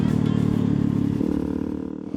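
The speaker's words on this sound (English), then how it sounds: "he's on a Super Cub." A small Honda Super Cub moped passes by in the open desert, its steady buzzing engine drone holding close and loud before the pitch drops slightly as it moves on.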